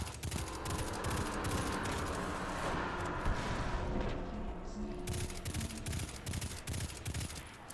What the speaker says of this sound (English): a lot of snipers shooting at me.